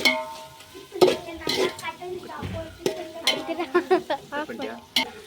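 Mint being stirred into chicken biryani in a pot, with repeated metal spoon scrapes and clinks against the pot over a soft sizzle, and brief talk in between.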